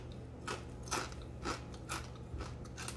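Loud, close crunching as vegan gluten-free crackers are chewed, with about six sharp bites in a steady rhythm over a quiet background and no talking.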